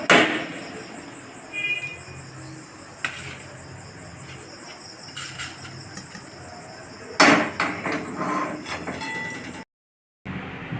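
Roasted fennel seeds are crushed into powder in a few loud, sudden crunching bursts separated by quieter stretches, over a faint background of insect chirping.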